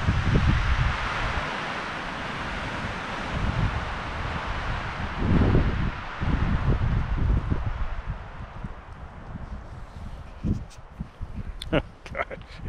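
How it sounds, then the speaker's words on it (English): Strong wind gust in a Lake Tahoe blizzard, a loud, continuous roar and buffeting against the microphone that swells and holds for several seconds before easing, with faint knocks near the end. "here comes another gust."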